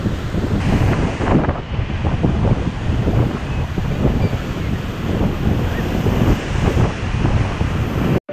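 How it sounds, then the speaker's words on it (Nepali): Strong wind buffets the microphone while sea waves surge and break at a Tel Aviv beach, a loud continuous roar of gusts and surf. "जोरले हावा लागिरहेको छ, समुद्रको छाल पनि बढिरहेको छ,"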